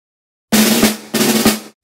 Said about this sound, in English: the snare drum, which sounds like this,